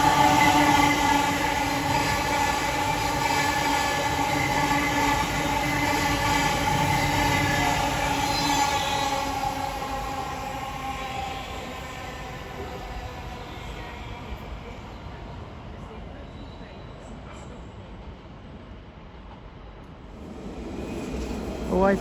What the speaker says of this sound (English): the 1013 Elizabeth line service from Heathrow Terminal 5 to Shenfield